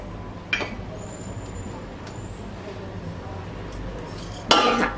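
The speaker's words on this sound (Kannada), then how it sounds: "ಬಾಣಲಿ ಇಟ್ಟೋಣ." A metal pan is set down on a kitchen stove, giving a sharp clank near the start and a louder clatter near the end over quiet room background.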